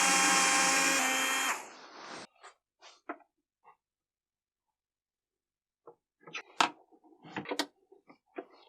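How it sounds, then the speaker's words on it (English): A brief burst of power-drill whine is followed by soft scattered clicks and small creaks as a ring screw is turned in by hand, quiet and intermittent with gaps of near silence. "I go in first with this screw to make the hole"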